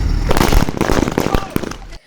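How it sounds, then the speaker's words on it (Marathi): Diwali firecrackers burst loudly and close by in a rapid, crackling volley of pops, then cut off abruptly. "मी पण मस्तपैकी फटाके वाजवत होते"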